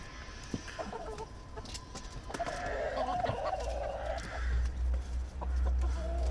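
Several Dominant Greenshell chickens clucking and murmuring nearby, with one louder drawn-out call in the middle and low rumbling noise toward the end.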